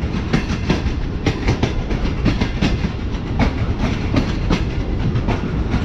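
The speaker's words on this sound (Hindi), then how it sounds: "हमारी ट्रेन जो है वो अप्रोच बना रही है नवाबों का शहर यानी भावलपुर में" Karakoram Express passenger train rolling toward Bahawalpur station in Pakistan, heard from onboard: loud, continuous rumble with rhythmic clickety-clack of wheels over rail joints, steady throughout.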